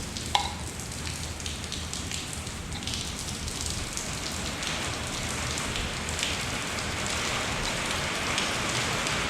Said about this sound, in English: it's raining, so it might make it really noisy here